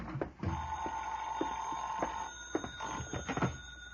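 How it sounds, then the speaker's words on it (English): A telephone rings in a hotel room as a radio drama sound effect, a steady trilling bell repeating through the clip at moderate loudness with soft knocks and shuffles around it. "I went back to my room and the phone was ringing."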